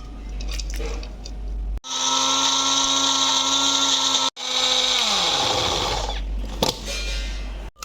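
Mixer grinder whirring loudly as it makes onion paste, a steady high motor whine that starts abruptly, pauses briefly, then winds down and stops before a few light knocks.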